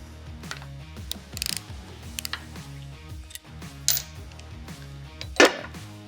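A 3/8-inch drive ratchet with a socket clicks in short ratcheting runs while removing the swivel cover bolts on a drilling head, with metallic taps and clinks between the strokes, all close up and with no talk.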